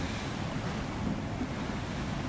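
A sailing ship gliding over sea waves in the Wartales video game, heard as a steady wash of surf and wind noise, even and continuous with no talk.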